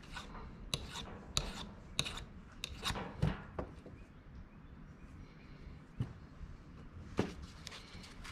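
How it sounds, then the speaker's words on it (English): A hand file rasping on a part from a Ford 770B loader on a 1710 tractor, with a series of short, quiet scraping strokes at an uneven pace and no voices. "Don't want to go too far with a file."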